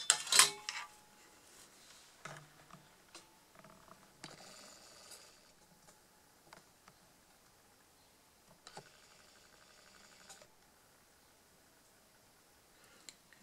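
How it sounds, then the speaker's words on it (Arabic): A Singer knitting machine works a stitch, giving scattered mechanical clicks, ratcheting clatters and short carriage rattles, with a sharp clack at the start and quieter gaps between bursts, close and without talk. "هذه هي الغرزة تاع اليوم على ماكينة سنجر"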